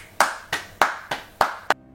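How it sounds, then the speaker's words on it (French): A single person claps hands slowly and deliberately, six sharp, close claps in an even rhythm with short gaps, then stops abruptly into silence. "J'applaudis autant de médiocrité dans ce scénario."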